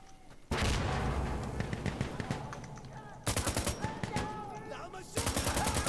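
A rifle in Insurgency Sandstorm empties a whole magazine in rapid automatic bursts, loud and close, three long strings of shots separated by brief pauses, with distant battlefield noise underneath.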